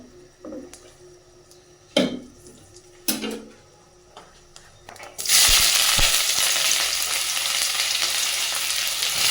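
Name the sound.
fish being sautéed in a pan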